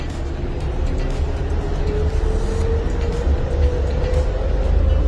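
A loud, steady rumble of a train rolling along the rails, with a low droning hum and no speech.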